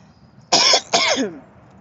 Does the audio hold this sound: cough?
yes